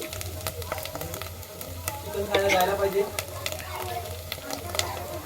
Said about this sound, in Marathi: व्यवस्थित तेलामध्ये परतून घ्यायचा आहे हळद आता हे लाल तिखट